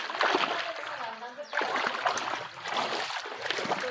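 A creek in a flooded neighbourhood gushes and splashes close by in a steady, broadband rush of moving water, with a brief dip in the flow before it surges back.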